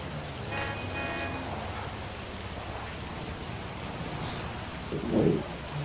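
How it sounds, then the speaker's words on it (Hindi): Steady rain hiss fills a street scene in a GTA video game, a constant broadband wash with a couple of brief louder sounds near the end and no talking. "बारिश भी स्टार्ट ही हो चुकी है"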